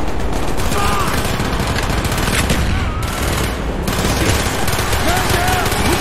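Sustained automatic gunfire fills a Call of Duty: Black Ops battle aboard a ship, with rapid bursts layered into dense, loud fusillades and voices shouting over the constant shooting.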